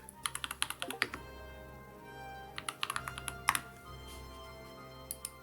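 Quick bursts of typing on a computer keyboard, close and crisp, with clusters of rapid key clicks separated by short pauses.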